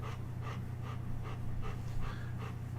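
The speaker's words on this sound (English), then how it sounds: "if you guys hear panting, it's not Alex getting like really excited about a giant This- dog yeah, the size of a bear" A large dog panting heavily, quick rhythmic breaths repeating about twice per second, close and steady over a low background hum.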